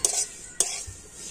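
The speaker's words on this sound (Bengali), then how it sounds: "সবকিছু খুব ভালো করে ভেজে নেব।" Semolina being stirred and fried in a pan, with two sharp scraping strokes of a spoon against the pan, close and fairly quiet, over a faint background.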